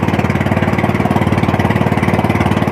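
A small fishing boat motor at sea, carrying two people, chugs steadily with a fast, even pulse. It is close and fairly loud, with no voices.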